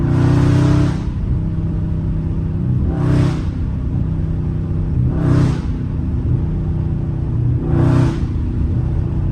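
A Dodge Charger Scat Pack engine revs hard four times in regular bursts during hard pulls, each rising sharply over a deep, steady idle rumble.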